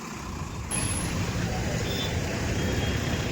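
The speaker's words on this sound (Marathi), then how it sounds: "बघा ट्रॉफिक लय" Busy road traffic rumbles in a thick, steady roar of engines nearby, with a high air-brake hiss cutting in briefly and vehicles passing continuously.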